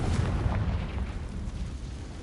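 A fiery blast from the Confringo spell in Hogwarts Legacy: a deep, rumbling explosion that swells at the start and fades into a low, continuous boom, with no speech.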